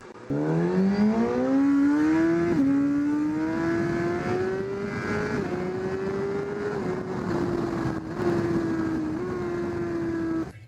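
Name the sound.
Suzuki GSX-R 1000 2019 motorcycle engine revving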